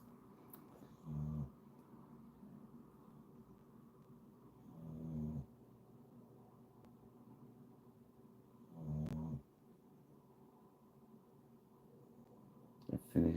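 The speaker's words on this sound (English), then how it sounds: "Dog snoring." Dog snoring indoors in a quiet room: four slow, deep snore breaths spaced several seconds apart, each a low rumbling swell, with a faint snort or shuffle at the end.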